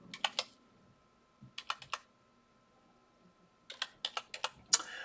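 Fingers type a password on a computer keyboard in three quick clusters of crisp key clicks, close and fairly quiet, separated by short silent pauses.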